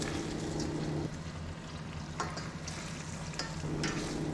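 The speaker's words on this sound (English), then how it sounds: "And I fried it up until it's slightly caramelized." Beef with hoisin sauce sizzles and fries steadily in a pan, with a constant hiss and occasional scraping stirs, close and loud, no talk.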